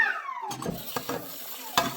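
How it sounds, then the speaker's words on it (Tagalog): Dishes, plates and pots being washed: clinking cutlery and knocking crockery in short scattered bursts, close and fairly quiet, with a faint rising tone at the start. "kailangan maghugas din tayo ng plato"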